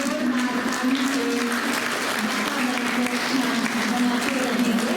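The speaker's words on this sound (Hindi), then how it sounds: "तो जब तक अपना स्थान ग्रहण करें, जोरदार ताली से" An audience at a spiritual satsang gathering claps loudly and continuously, the dense applause running under a sustained tonal hum throughout.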